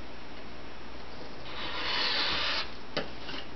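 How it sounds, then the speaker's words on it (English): A rotary cutter slicing through four layers of fabric makes a rough, rasping pull lasting about a second, then a single short click, against a quiet background. "I'm just using a rotary cutter"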